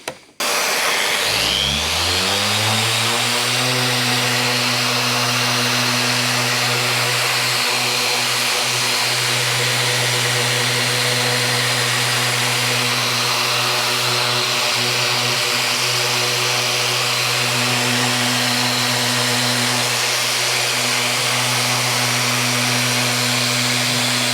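A Vevor 6-inch random orbital sander spins up and runs in normal orbit mode, a loud steady motor hum with a constant high whine that holds without pause throughout.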